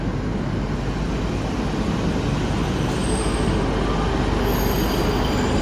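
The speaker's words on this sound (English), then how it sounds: "Arriving now is the 10:09 Northern service from Blackburn to Rochdale" A Northern class 150 diesel train from Blackburn pulls into Manchester Victoria station, a steady loud rumble of wheels and engine with faint squeal, continuous and close.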